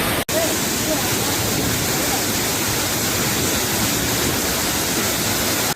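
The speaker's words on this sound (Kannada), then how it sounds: "ಕಾವೇರಿ ನದಿ ತುಂಬಿ ಹರಿದು ಶಿವನ ಸಮುದ್ರದ ಭರಚುಕ್ಕಿ ಮತ್ತು ಗಗನಚುಕ್ಕಿಯಲ್ಲಿ ಭೋರ್ಗರೆದು ಧುಮುಕುವಾಗ" Shivanasamudra waterfall on the swollen Kaveri river gives a steady, loud, close roar of plunging water with no break.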